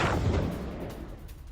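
An explosion at the Zaporizhzhia plant during a Russian attack: a single deep, heavy boom that rolls off into a fading low rumble, with no voices.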